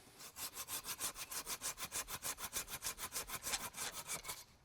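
A hand saw cuts through a piece of wood being prepared for a campfire, about thirty rapid even back-and-forth rasping strokes, close and steady, with no talking.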